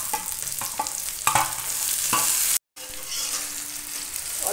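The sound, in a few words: onions frying in a pan for chana paneer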